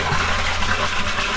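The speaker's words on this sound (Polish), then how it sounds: "podczas wylewania trzeba po prostu go wcisnąć i obrócić kasetkę" Liquid pouring and gushing steadily out of a camper's cassette toilet tank as it is emptied, a continuous close splashing flow with no pauses.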